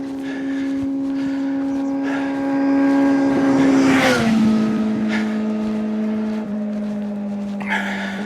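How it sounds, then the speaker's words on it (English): A motorbike passes along a hiking trail, its engine whine rising as it approaches, peaking loudly up close, then dropping in pitch and fading as it rides away. "Comes a motorbike."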